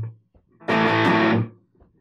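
Distorted electric guitar playing a riff in a lesson setting, one loud sustained chord burst of under a second framed by short muted picks and quiet gaps, heard alone without talk.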